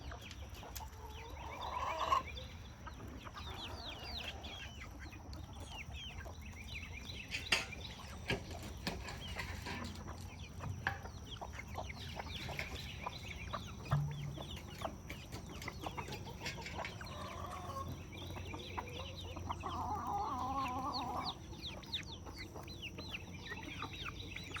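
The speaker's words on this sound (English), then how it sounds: "There's my Hamburg rooster." Hamburg rooster and hens cluck steadily around a farmyard coop, soft repeated clucks and low calls over a constant background hum, with no voices.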